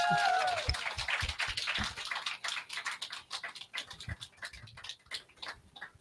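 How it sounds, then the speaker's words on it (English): Audience claps for a pop singer at a radio listener lounge event, a small crowd whose applause starts fairly loud, then thins into scattered individual claps that fade toward the end, with a little voice at the start. "give her a big round of applause"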